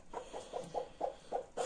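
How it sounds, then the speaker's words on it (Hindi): A hen clucks in a quick, evenly spaced series of about seven short clucks right after being lifted off her clutch of eggs, close by and fairly soft. "मुर्गी को अभी मैंने उठा दिया"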